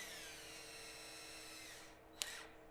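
A power drill drives screws into the roof of a small wooden birdhouse, with a steady close whir that stops abruptly after a couple of seconds, ending in a sharp click.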